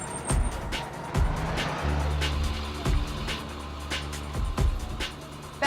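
A city bus coming along the street, with a low engine rumble building amid passing traffic and a few sharp knocks and bumps; moderately distant and fairly quiet overall.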